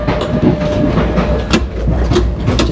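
An Indian Railways passenger train travelling from Bareilly to Delhi, heard from inside a sleeper berth cabin: a loud, steady rumble with rhythmic wheel clatter and occasional sharp metallic knocks.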